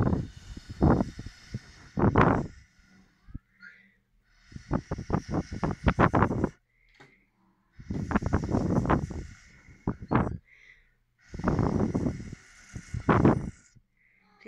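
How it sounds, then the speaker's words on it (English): An old cat hissing and growling at close range in a resin-crafting room, with several separate breathy hiss bursts, each a couple of seconds long, and short pauses between them. "Please excuse my cat, she's just a grumpy old lady."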